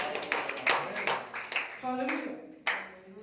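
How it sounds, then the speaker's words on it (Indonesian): A church congregation claps together for God during a pastor's sermon, a dense run of close handclaps with a person calling out over them. "Yang sepakat kita tepuk tangan bagi Tuhan."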